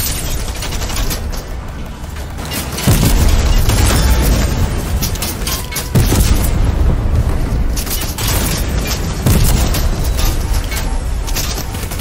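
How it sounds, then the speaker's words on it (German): Explosions and heavy gunfire from tanks in the video game Fortnite, several loud booms in sequence over continuous rattling fire. "Oh nein, mein Panzer explodiert jetzt."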